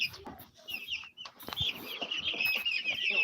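A flock of meat birds on a farm, chickens clucking and chattering continuously with occasional wing flaps and thumps, moderately close and without speech.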